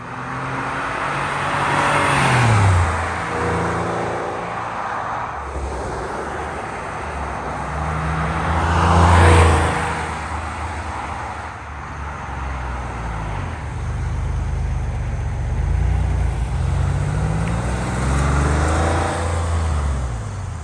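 A 1998 Porsche 911 Carrera 2S drives past on a street several times from outside, its engine swelling loudly as it approaches and rushes by, then fading, with rising revs between passes.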